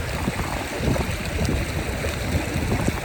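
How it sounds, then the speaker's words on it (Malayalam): A small mountain stream of melting snow in the high Himalaya near Khardung La, heard up close as a steady, dense rushing and gurgling of water that stays even throughout, with no voices. "ചെറിയൊരു അരുവി ഇങ്ങനെ ഒഴുകി ഒഴുകി പോകുന്നത്"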